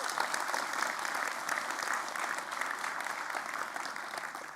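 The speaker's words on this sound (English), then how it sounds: "If we can just give them a big round of applause." At the YoastCon 2023 conference, a large audience gives a big round of applause. The clapping is loud and steady, keeps a continuous wash of hand claps, and tapers slightly at the end.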